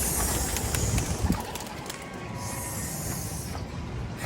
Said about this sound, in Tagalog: Lipad mga ibon.